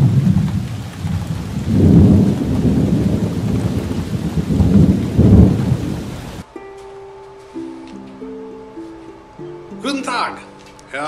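A thunderstorm with heavy rain and low, rolling thunder booms roars loudly for about six seconds, then cuts abruptly to quiet tonal music.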